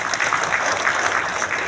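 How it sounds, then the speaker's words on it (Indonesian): Journalists at a livestock department press event receiving a short burst of applause, a dense even patter of many hands clapping, fairly loud and with no voice over it. "Tepuk tangan untuk jurnalis kita."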